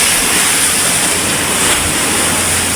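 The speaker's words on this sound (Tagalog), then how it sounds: "Ang lalaki ng alon." Big Pacific Ocean waves crash in stormy weather, a dense, loud, continuous roar of surf filling the whole moment with no voices.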